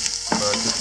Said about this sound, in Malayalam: 2 സവാള ഉപയോഗിക്കണം. നമുക്കൊന്ന് വഴറ്റിയിട്ട് ചെറിയ നിറം മാറി കഴിയുമ്പോൾ